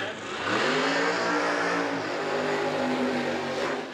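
A Pontiac Firebird drag car launches at a street drag racing event. The engine roars up loud and close into a sustained, climbing rev that holds for several seconds.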